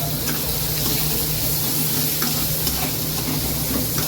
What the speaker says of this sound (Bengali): পেঁয়াজ আর টমেটোটাকে ভালো করে একটুখানি ভাজা ভাজা করে নিই।